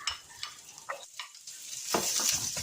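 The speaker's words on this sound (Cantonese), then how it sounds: "大火熱鑊以下1湯匙油，油熱15g 嘅薑絲，煎香20秒。" Fifteen grams of ginger shreds fry in a tablespoon of hot oil in a wok over high heat, giving a crackling, spattering sizzle broken by scraping stirring strokes that grows louder toward the end.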